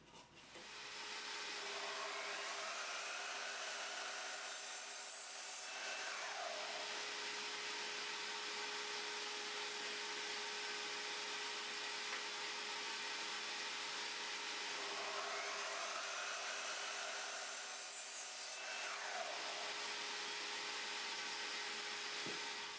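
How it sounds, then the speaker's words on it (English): Evolution Rage 3DB multipurpose mitre saw cutting timber pieces: a steady loud motor whine runs throughout, with two rising-and-falling cutting passes as the blade bites through the wood. "I'm just going to cut a few 6-inch pieces of timber now"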